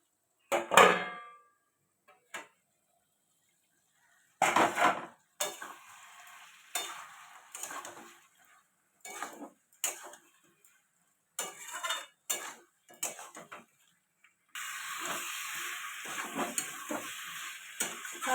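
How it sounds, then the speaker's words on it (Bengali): Mixed vegetables and fish head being sautéed with cumin powder in a pan, with scraping spatula stirs and clinks coming in bursts between pauses, then a steady sizzle of frying toward the end. "ভালো করে কষিয়ে নেব। জিরের গুঁড়ো দিয়ে দেবো"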